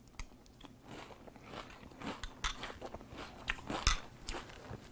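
Close, quiet crunching of Kellogg's Pumpkin Spice Frosted Flakes eaten with milk, a string of soft uneven bites and chews with a few louder crunches, no talking.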